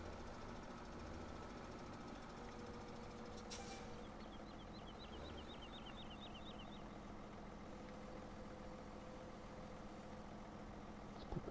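Tractor engine idling in a farming video game, a steady low rumble at constant volume, faint and unchanging, with a brief hiss and light chirping ticks partway through.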